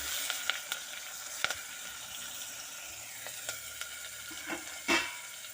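Ground spice paste fries in a pan, sizzling steadily while making a balloon vine and climbing brinjal rasam, with a few sharp clicks and scrapes of stirring and a louder clatter near the end.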